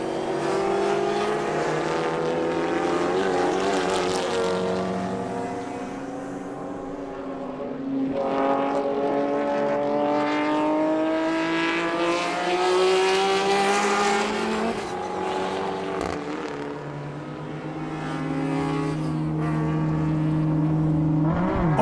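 Race cars at full throttle at One Raceway during an IPRA NSW round, with engines revving up and shifting through gears in a loud onboard roar that runs the whole way.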